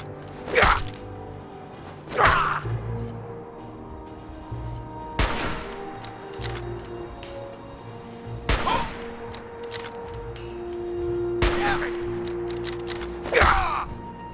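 Shots ring out in Fallout in a slow series of about six separate loud blasts spaced a couple of seconds apart, with low droning background and occasional voices between them.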